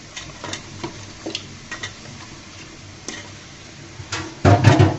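Chicken pieces dropped into fried spice paste in a pan for a Bengali potato-chicken dish, faint ticking stirs giving way to a loud burst of sizzling and clatter at the end.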